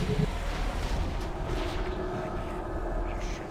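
Heavy booming cannon fire from a ship under bombardment in a video game rolls through a dense, noisy battle din, with sharp blasts punctuating a constant rumble.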